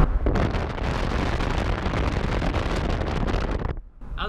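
Heavy wind buffets the microphone in a loud, constant roar over tractor engine rumble while pulling a New Holland 256 rake, dropping off suddenly near the end before returning.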